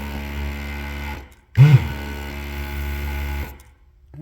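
Solder extractor vacuum pump used for desoldering DIP components from a printed circuit board, a steady mechanical hum that pauses briefly, restarts with a louder burst, then cuts off near the end.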